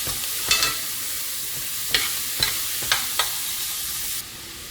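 Chopped vegetables for a Southern-style stewed chicken fry with a steady close sizzle, broken by a handful of sharp scraping stirs of a spoon in the pan.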